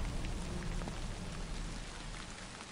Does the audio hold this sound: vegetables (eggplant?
no